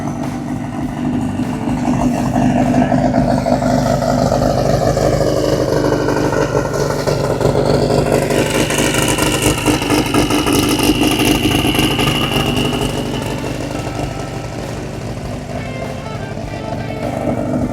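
A Volkswagen Beetle engine drives past at a hot rod and race car show at Lake Havasu, a steady loud mid-pitched drone that swells and holds, then eases slightly as it moves on.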